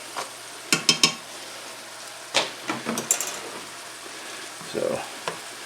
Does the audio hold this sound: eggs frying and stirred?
yes